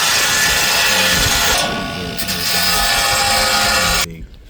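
A power tool cuts a powder-coated steel rear bar for an 80 Series Land Cruiser with a loud, harsh, grinding rasp that wavers briefly, then stops abruptly near the end, leaving quiet.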